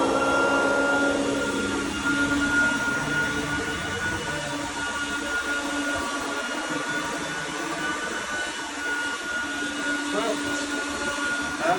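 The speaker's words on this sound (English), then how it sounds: "Let's vacuum, shall we?" A 1986 Oreck XL 100C upright vacuum cleaner runs steadily close by, a loud droning whine with a motor pitch that shifts slightly early on, continuous throughout.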